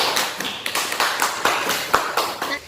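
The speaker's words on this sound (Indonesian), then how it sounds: "Beri aplaus dulu untuk Uria." A classroom audience claps for a student presenter at the end of a presentation, a short burst of several hands beating in a fast, irregular rhythm, fairly close and without talk.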